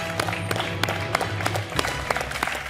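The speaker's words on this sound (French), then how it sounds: "Alors là, moi, je vous applaudis tous les deux." On a French quiz game show, the studio audience claps loudly and steadily, with distinct hand claps poking out of the dense applause over a brief musical tone.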